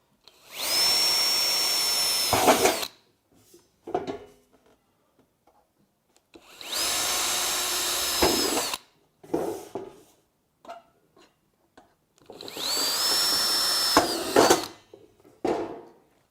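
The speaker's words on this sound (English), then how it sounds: "now we're going to drill through the edge to fasten down our sheet" A power drill bores through the sheet metal edge of a galvanised planter box in three separate runs, each a loud whining burst of a few seconds, with short clanks and handling noises between them.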